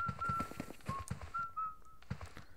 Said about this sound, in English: Who's whistling with me?